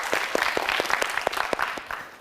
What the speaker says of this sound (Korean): 우리 새 학생에게 힘내라고 박수 한번 보내주시죠.